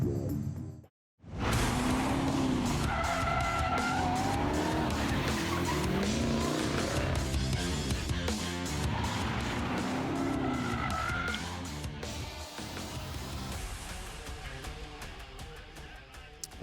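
Dodge Thrill Ride cars skid around a course in Glendale, tires squealing in long wavering tones over a loud, steady engine roar that continues for the full stretch after a brief opening gap.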